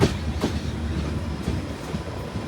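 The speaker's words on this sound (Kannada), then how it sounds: "ನಮ್ಮ ಟ್ರೈನ್ ಫುಲ್ ಕರು ಹೊಡೆಯೋದು ಯಾವ ಥರ ಕಾಣಿಸ್ತಾ ಇದೆ ನೋಡಿ" A passenger train on the Mysuru to Shirdi route races at full speed through Obalapura station without stopping, steady rumble broken by sharp, rhythmic wheel clacks over rail joints.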